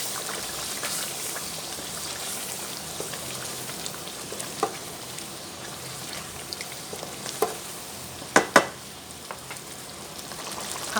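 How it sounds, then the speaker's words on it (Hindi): Whisked yogurt frying with meat for balti gosht, a soft steady sizzle with occasional louder pops and spoon clinks, fairly faint. "250 ग्राम यानी कि 1 कप के बराबर फेंटा हुआ दही डालेंगे। 2 से 3 मिनट इसकी भी हमने भुनाई करनी है।"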